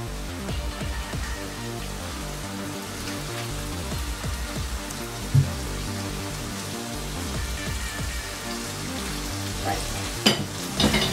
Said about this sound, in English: Put in the pasta, just mix it in with the prawns.